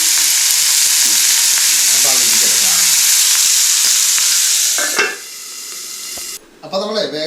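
Bitter gourd frying in a pan, giving a loud, dense hiss that runs steadily, then drops sharply as a lid is set on, followed by a few clattering knocks.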